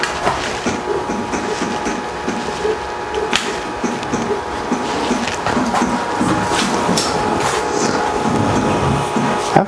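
An Ender 3 3D printer prints a Benchy boat, its stepper motors whirring and chirping in shifting tones with light mechanical rattles, steady and fairly close with no talk.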